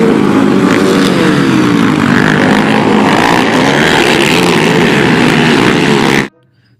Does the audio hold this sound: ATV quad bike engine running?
yes